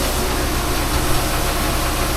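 A tractor engine runs steadily nearby during wheat sowing, a loud continuous diesel rumble with a low idling throb and no pauses.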